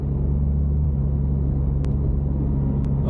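Steady low rumble of a BMW car with an N55 engine being driven, a continuous close drone with engine hum and no talking.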